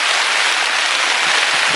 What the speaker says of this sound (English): There's absolutely nothing you can do about the rain.